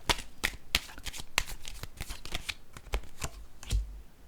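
Tarot cards being handled and set down on a table, a close run of crisp riffling snaps and slaps with soft papery rustle between them, fairly loud and steady with no talk.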